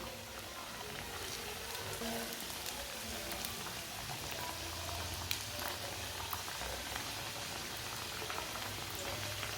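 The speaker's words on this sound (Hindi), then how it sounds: "अब समोसे डाल लेंगे, देख के डालना कहीं हाथ ना जले। इसे कम आंच पे पकाना है" Samosas frying in oil on a low flame, a steady soft crackling sizzle with tiny pops throughout, fairly quiet and close, with no talk.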